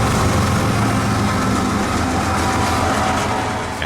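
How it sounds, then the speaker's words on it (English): Long freight train with distributed power units mid-train rolling past in the rain, a heavy continuous rumble and rail noise, loud and close, easing slightly toward the end. "This monster was interesting in that it had DPU engines in the middle,"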